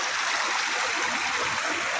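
Water rushes and splashes in a steady broadband wash as a river stream flows nearby, heard on its own with no voices.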